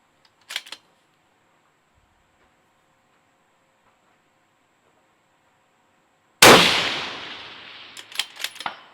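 A 6mm Creedmoor rifle fires once, a sharp loud crack with a ringing decay after a long near-silent stretch, followed by faint taps of the bullet striking a distant target; a small click is heard earlier.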